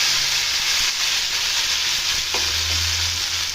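Ground spice paste hitting hot oil while cooking a vegetarian green moong dal tadka, a dense, steady, loud sizzle and hiss that goes on throughout, with faint stirring under it and no talk.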